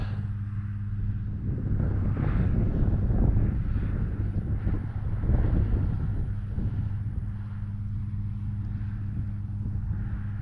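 Strong, steady wind buffets the microphone at an RC airplane flying field where an E-Flite T-28 model is landing, a continuous low roar and rumble holding loud for the whole stretch, with no talk.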